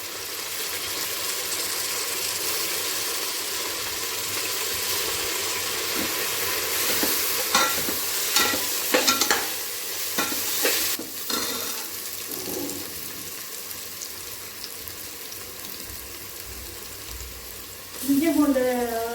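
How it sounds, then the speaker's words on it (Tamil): Green chillies, mint and coriander sauté in a pan for pulao rice, giving a steady close sizzle. A cluster of spatula stirs and scrapes comes midway, and a short rising whistle-like tone sounds near the end. "தேவையான அளவு பச்சை மிளகாயும் புதினா மல்லியும் போட்டு வதக்கி விட்டுருவோம்."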